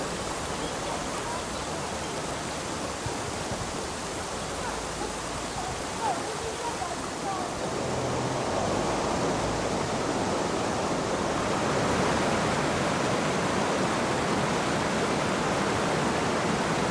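The East Lyn River rushes steadily under a road bridge, a dense, constant broadband roar of flowing water that holds even and close throughout, swelling slightly louder toward the end.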